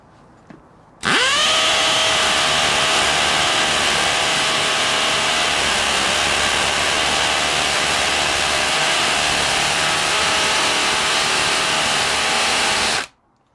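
A DeWalt Flexvolt hammer drill on speed 3 bores a 7/8-inch hole into concrete, starting abruptly and running as one loud, steady, close grinding roar for about twelve seconds before cutting off sharply.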